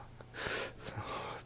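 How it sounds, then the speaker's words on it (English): A short throaty cough caught in the throat, a close harsh burst of breath with a wheezy catch, followed by softer breathy throat noise. "cough stuck in the throat"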